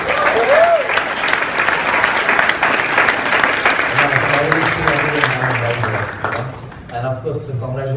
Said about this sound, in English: Let's cheer for Ajay and Madhu.